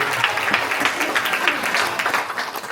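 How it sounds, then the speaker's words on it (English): Audience applause at a class presentation, steady dense clapping from a room full of people, fairly loud and continuous throughout. "Let's give Aiden a round of applause."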